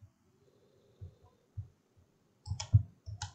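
Mouse clicks while working in DesignSpark Mechanical CAD software, a few soft low thumps followed by a tight run of sharper, louder clicks near the end; close, quiet background, no talking.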